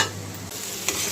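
Pumpkin cooking down in a pan with only a little water, a soft sizzle with stirring scrapes and a brief brighter clink near the end, close and steady with no talk.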